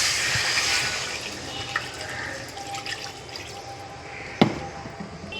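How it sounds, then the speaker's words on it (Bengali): Water is poured into a cooking pan of prawn paste curry with ginger paste, making a steady close rushing splash that runs throughout, with a small clink near the end. "এবার আমি জল দিয়ে দিচ্ছি"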